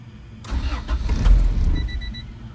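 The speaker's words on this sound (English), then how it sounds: "You're going to hear the nostalgic startup of a B-Series." A clean Honda B-Series GSR engine cranks and fires, catching into a loud, close rumble that builds and settles toward idle, with faint high whine above.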